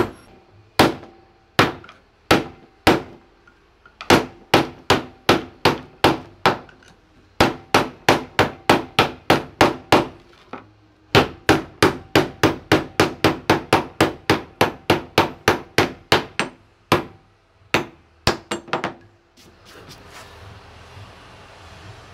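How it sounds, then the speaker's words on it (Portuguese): Loud, sharp hammer blows ring against metal while a homemade shaft bearing is made, striking in irregular bursts and then fast rhythmic runs of many hits over about twenty seconds, with no talking. "Martelo."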